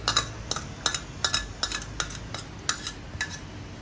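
A spoon scrapes and stirs spice masala in a bowl, about eight quick, even strokes in a steady rhythm, close and clear.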